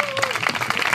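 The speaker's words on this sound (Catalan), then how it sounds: "Doncs l'aplaudiu i parlo." Audience at a Barcelona neighbourhood cultural talk gives a speaker a short burst of clapping, close and fairly loud, with some talk mixed in.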